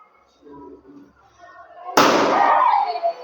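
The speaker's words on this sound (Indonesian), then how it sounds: "Apa yang terjadi? Balonnya meledak." A balloon tied shut bursts with a sharp, loud pop after a few seconds of quiet classroom chatter, triggered by juice squeezed from orange peel during a school experiment.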